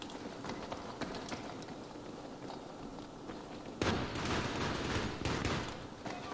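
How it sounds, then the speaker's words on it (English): Dense gunfire and explosions fill a Battlefield 3 multiplayer squad deathmatch, a continuous crackling barrage that swells louder partway through, with no talk. "all I hear is gunshots going off"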